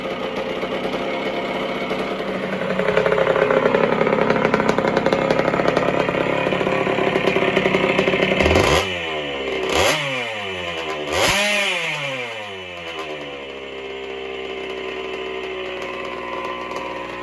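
A rebuilt 1977 Honda CR125M motorcycle engine runs at high revs, then is blipped sharply three times, each rev falling away before settling to a steady idle.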